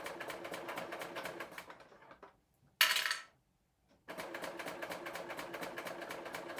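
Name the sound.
serger sewing machine stitching a sleeve hem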